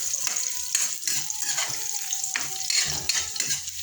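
Garlic and ginger frying together in a pan for tinola, a close, steady sizzle broken by scraping stirs, with no talking.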